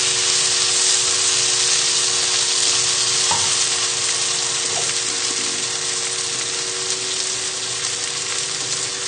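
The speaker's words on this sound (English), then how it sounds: "just moving the sausages and pesto around in the pan" Sausages and pesto fry in a pan on a medium burner at full heat, giving a loud, steady sizzle that runs unbroken throughout, with occasional soft scrapes as they are moved around.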